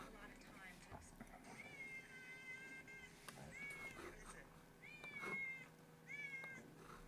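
Stray cats meow in a video game, with several drawn-out, plaintive cries spaced over a few seconds against a low background hum, faint and somewhat distant.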